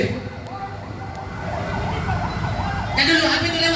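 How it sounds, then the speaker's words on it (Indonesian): Ambulance siren wailing in a rising-falling sweep as it passes along a road blocked by student protesters, heard amid the crowd's background noise and traffic, growing louder toward the end. "apa itu lewat ambulans? Ambulans. Buka jalan."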